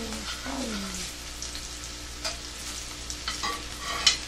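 Cauliflower fritters sizzling in a frying pan, a soft continuous crackle with a few scraping stir sounds and small pops, close up, no talking.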